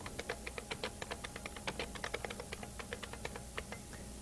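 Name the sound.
typing a long file name on a computer keyboard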